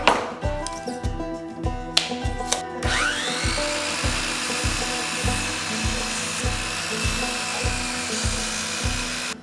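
A power tool cuts S3S pine boards for the sides of a garden caddy toolbox, with a high whine spinning up over a rhythmic low chopping pulse, close and loud throughout.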